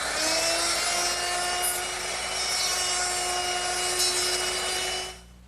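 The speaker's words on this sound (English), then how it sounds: "I'm just going to use my router, which I've set up with a 1/2 inch mortising bit" Router fitted with a 1/2 inch mortising bit cutting into wood, a loud steady high-pitched whine holding constant for about five seconds before cutting off.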